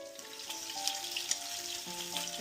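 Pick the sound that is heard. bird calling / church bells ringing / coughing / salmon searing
salmon searing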